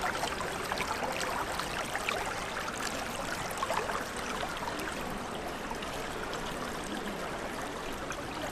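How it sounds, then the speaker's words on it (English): Continuous rushing river water flows steadily throughout, a broad, even roar heard up close near Naousa with no voices. "Just listen for a second to the sound of the water"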